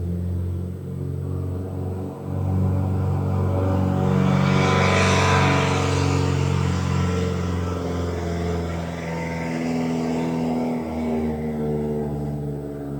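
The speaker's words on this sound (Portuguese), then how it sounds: "Ó, de novo essa moto." A motorcycle passes by outdoors, its engine rumble swelling to a loud peak mid-way and then fading, heard alone without speech.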